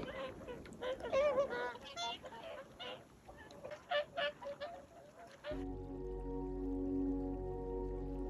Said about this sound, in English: And I love all the geese.